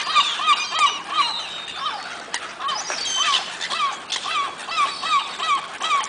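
Seagulls call repeatedly from a pole outdoors, a string of sharp, rhythmic squawking cries against wind and background noise, moderately distant and mixed with other bird calls.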